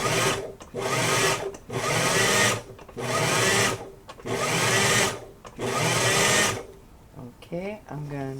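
Five loud bursts of an electric hand mixer working Crisco pie crust dough, each lasting about a second with short gaps between, then a voice speaks briefly once the motor stops.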